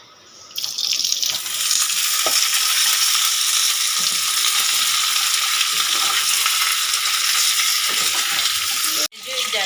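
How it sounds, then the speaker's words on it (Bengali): Vegetables fried in a pan for shukto, a Bengali dish, hiss into a loud, continuous sizzle that starts abruptly and holds steady before cutting off near the end. "এবারে দিয়ে দেবো ভেজে রাখা সবজিগুলো"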